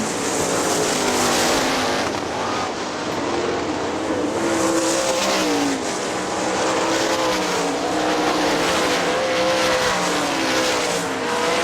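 410 sprint cars race on the Hartford Speedway Park oval in Michigan, a loud continuous roar of several engines running close together, with pitch rising and falling as they drive through the turns.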